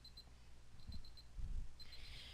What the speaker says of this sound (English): we'll listen for the beep alert.